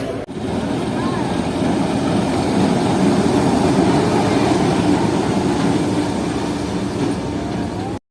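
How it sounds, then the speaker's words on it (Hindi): Steady, loud rumble of train coaches being shunted and attached to the 12 Down Hazara Express at Multan railway station, continuous broadband noise throughout with no clear voices. "मेरे सामने से मुल्तान कोटा के कोचेस 12 डाउन हज़ारा एक्सप्रेस में लगाए जा रहे हैं।"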